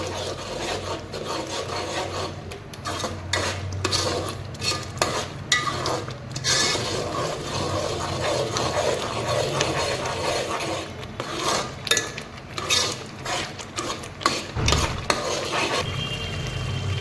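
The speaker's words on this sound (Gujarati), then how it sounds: "હવે આપણે તેને ધીમા ગેસ પર એક કે બે મિનિટ સુધી સાતળવા દેશું" Red chili powder and coriander-cumin powder sauté in a pan on low heat for a corn curry. A spatula rubs and scrapes steadily across the pan's surface for a long stretch, with a faint frying hiss beneath and no speech.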